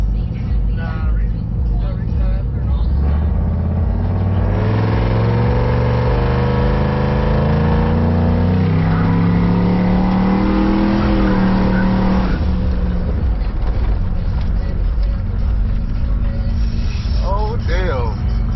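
A turbocharged GMC Yukon with a lowering kit launches hard, its engine note climbing steadily through the gears, loud and close from inside the cabin, with people talking over it.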